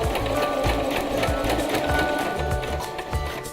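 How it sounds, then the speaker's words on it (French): A domestic sewing machine stitches fabric while a visible zipper is set in, running a steady, continuous mechanical whir with a rapid needle rhythm, close and moderately loud, with no talk over it. "Commencez votre couture par quelques points en marche arrière. Continuez en marche avant."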